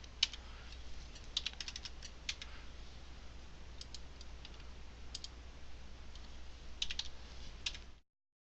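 Vital signs are entered on a computer keyboard in short bursts of quiet key clicks and taps, separated by pauses, over a faint low hum.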